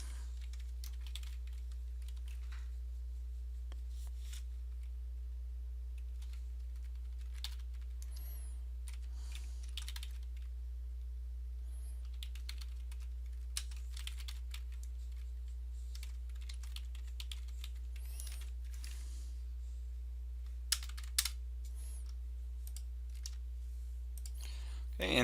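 Code is typed on a computer keyboard in quick bursts of soft close key clicks with pauses between runs, over a low steady hum.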